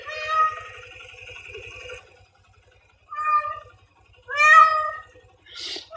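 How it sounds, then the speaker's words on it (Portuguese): A cat meows several times, a long drawn-out meow first, then shorter cries after a brief pause, close by and fairly loud. "Ó o gatinho aí."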